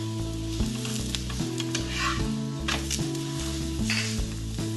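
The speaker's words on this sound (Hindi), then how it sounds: "अच्छे से घी, तेल, बटर कुछ भी लगा के हम इसको सेक लेंगे" Methi paratha frying in ghee on a hot pan, a steady, close crackling sizzle throughout with light scraping and pressing touches, no voices over it.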